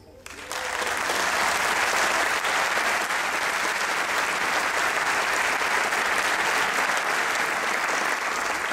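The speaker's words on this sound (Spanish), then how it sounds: "un aplauso para ellas." Loud audience applause at a live show in Colombia, breaking out after a brief pause and then holding as a thick, steady wash of clapping hands for several seconds without letting up.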